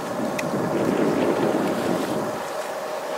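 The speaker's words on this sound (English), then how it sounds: "fine looking squall" Strong, steady wind roars across a sailboat on the open ocean as a squall approaches, with a dense rushing buffet and faint water wash underneath. No one speaks.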